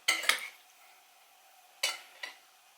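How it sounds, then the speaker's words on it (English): A metal spoon scraping and clinking against a bowl while potato salad is stirred, two short bursts of quick scrapes separated by a quiet pause, close but fairly soft. "So I'm going to stir this."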